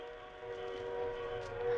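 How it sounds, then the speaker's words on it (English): An approaching train effect in a 1940s radio mystery drama, a steady mechanical rumble with a sustained whistle-like tone that builds slightly in loudness over a couple of seconds, with no voices. "A train. There's a train coming."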